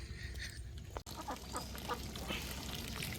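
Village ducks quack softly and intermittently while feeding, amid low background noise with a single brief click.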